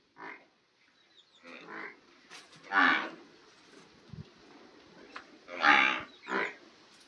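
A newborn female buffalo calf, born that day, moos several times in short, uneven calls, some louder and closer, with quiet pauses between them.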